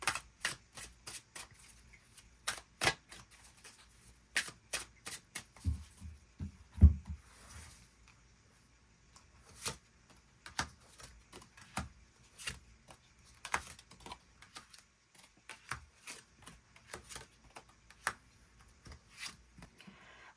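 Tarot cards are shuffled and drawn by hand at close range, a run of crisp, irregular card snaps and flicks with a brief low rustle midway and no talking.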